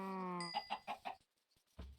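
Chickens cluck in Minecraft, several short clucks in a quick rhythm after a tonal game chime, then a pause before a low thump.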